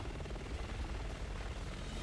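A helicopter's rotor thumps and whirs continuously at moderate loudness in the video game Resident Evil 6, a steady mechanical drone with no other sounds standing out.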